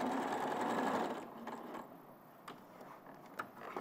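A domestic sewing machine stitches a seam with a brief whirring run of rapid stitching, then slows to a few quiet clicks and mechanical taps at close range.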